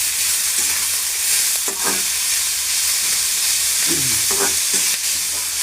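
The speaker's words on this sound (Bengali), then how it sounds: "গাজর ঘিয়ের মধ্যে ফ্রাই করতেছি, একটু নাড়াচাড়া করে চিনি দিলাম" Carrots fry in ghee with a steady, loud sizzle while a spoon stirs them, giving a few scraping clatters over the hiss.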